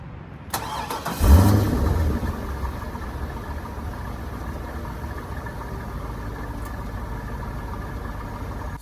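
A 5.7-liter V8 engine in a 2003 Chevrolet Corvette convertible cranks and catches with a loud, deep roar, then settles into a steady, throaty idle that rumbles on alone.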